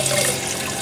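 Scoured silk and wool ribbon being gently rinsed of soap in running water, a steady close splashing wash like a tap running into a sink, continuous and alone with no speech.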